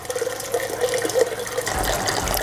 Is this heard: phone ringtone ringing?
no